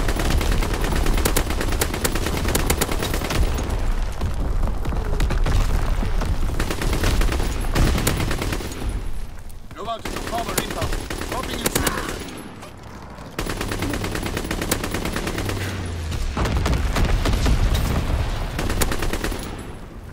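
Aircraft strafing runs in Call of Duty WWII bring continuous loud machine-gun fire and rattling bursts for twenty seconds, with explosions and battle noise underneath.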